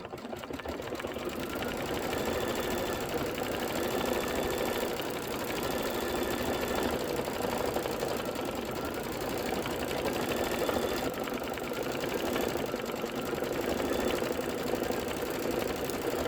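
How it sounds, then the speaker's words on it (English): A Kimberbell embroidery machine runs quilting stitches on a flange and border block, a steady mechanical whirring and knocking that carries on evenly and alone for the whole stretch, close and moderately loud. "hit start and just let it do the quilting stitches"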